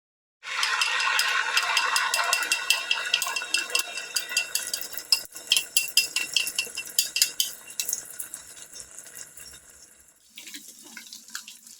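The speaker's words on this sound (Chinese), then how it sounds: "接下来我要炒蛋咯" Eggs hitting hot oil in a wok set off a loud, close sizzle that gradually settles, with a run of quick metallic scrapes and stirring clatter from a utensil midway and no talk.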